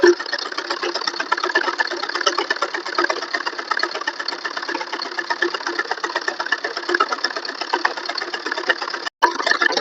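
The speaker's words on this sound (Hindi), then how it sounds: "ऐसे पलट के बराबर से कपड़ा रखते हुए सिलाई चला देंगे।" Sewing machine running steadily while stitching the hem of a salwar, a fast continuous mechanical whir with rapid needle rhythm, close and loud, with a brief pause near the end.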